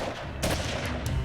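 Gunfire rings out in a short, loud burst with a sharp report partway through, followed by a fainter second crack, set over a constant background rumble.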